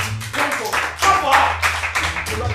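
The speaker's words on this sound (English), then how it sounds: "Clap for her." A high school classroom claps together in uneven, overlapping bursts, fairly close and lively, with voices mixed in among the hands.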